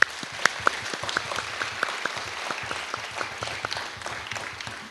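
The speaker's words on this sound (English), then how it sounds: "Join me in thanking them one more time with a warm round of applause." Audience at a leadership hub event gives a warm round of applause for donors, moderate steady clapping with a few distinct sharp claps standing out near the start.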